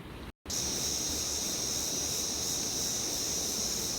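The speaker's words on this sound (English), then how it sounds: "how calming and soothing it is to hear the cicadas right by all the water." A steady, high-pitched drone of cicadas near water in the Colorado mountains fills the air, continuous and fairly loud over a soft background wash, after a brief cut at the start.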